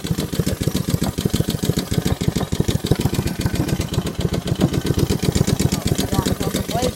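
A Honda HRR216 lawn mower engine runs at low throttle, a steady close-up chugging putter with rapid even pulses throughout, loud and continuous with no pauses.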